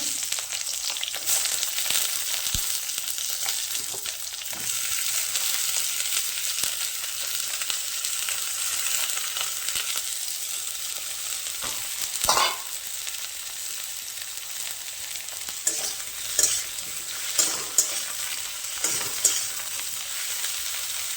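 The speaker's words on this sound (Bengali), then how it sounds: "বড় সাইজের বেগুন কেটেছিলাম বেগুনগুলো একইভাবে ভেজে নেব" Large pieces of eggplant fry in hot oil in a pan in a village kitchen, a dense continuous sizzle heard up close, with a few utensil knocks and stirring scrapes later on and no voices.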